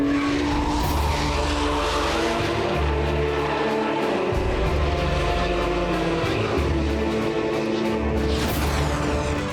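A car drifts hard on the circuit at Castle Combe, with loud continuous tyre squeal over a revving, roaring engine that rises and falls as the throttle is balanced. The sound stays close and steady throughout.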